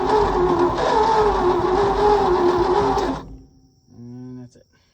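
A small engine running on brake cleaner roars loudly and steadily, then dies abruptly when the throttle is closed. A brief voice follows in the quiet after it stops.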